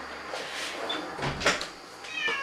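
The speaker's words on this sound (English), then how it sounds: "My cat wants to come in." A cat meows to be let in, faint and somewhat distant, with a few short plaintive calls over a low room hum and light knocking or door sounds.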